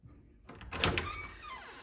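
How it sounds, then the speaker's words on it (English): A church door being pushed open, a soft thunk and creak followed by a swell of room noise as it swings, with no talk during the sound. "Pastor Dave, just open the door."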